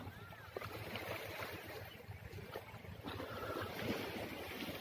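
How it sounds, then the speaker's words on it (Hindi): Waves slapping the river shore, heard from right at the water's edge with wind buffeting the microphone, a steady, rough wash that builds slightly toward the end, with no talk. "कितनी तेज हिलोरे मार रही है ये आवाज़"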